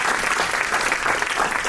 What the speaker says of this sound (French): On applaudit Vincent pour l'encourager.